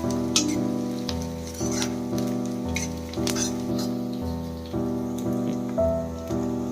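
Onions frying in a pan keep up a constant sizzle, with a scrape of stirring about every second and a half under a steady hum.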